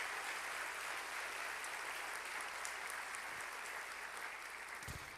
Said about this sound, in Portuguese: Você podia aplaudir ao Senhor por isso